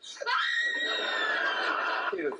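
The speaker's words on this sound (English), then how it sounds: "She's gonna scream now." A woman in a TV comedy lets out a loud, sustained high-pitched scream lasting about two seconds, with a brief laugh-like sound at the end.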